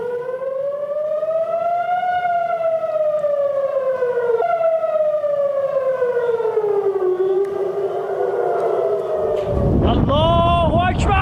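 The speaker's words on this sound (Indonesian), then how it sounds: "Sirine bunyi tanda peringatan terdengar di Tel Aviv pasca serangan." Air raid warning sirens wail over Tel Aviv after an attack, a loud rising and falling tone that sweeps slowly for several cycles before a burst of rumbling noise and a second siren near the end.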